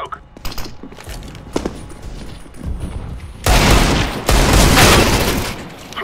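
A flashbang grenade goes off in a video game, a loud broad blast with a sustained ringing roar after sharp earlier shots and clicks, with faint voices in the background.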